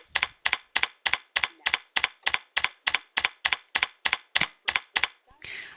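Steady, even typing on a computer keyboard as email text is entered, a regular run of about seventeen crisp close keystrokes ending in a brief softer rustle.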